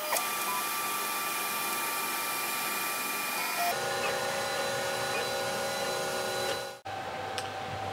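Four resin 3D printers, among them an Elegoo Mars, run with a steady mechanical whir and hum that changes pitch partway through, then briefly cuts out before resuming.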